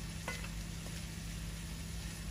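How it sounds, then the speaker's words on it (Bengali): Chicken leg pieces sizzle steadily while being stir-fried bhuna-style in a pan, a faint, continuous frying hiss with a few soft stirring scrapes and no talking. "কষানোর পালা, একটু ভালো করে কষতে হবে"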